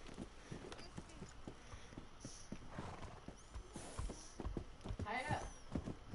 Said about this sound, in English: No, the horse is running away.